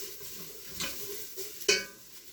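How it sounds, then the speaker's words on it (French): Garlic and veal sweetbreads browning in an old metal pot, with a low sizzle and a few clinks and scrapes of a utensil against the pot, close and fairly quiet. "Ajouter mes friands, ajouter de l'ail et je laisse revenir"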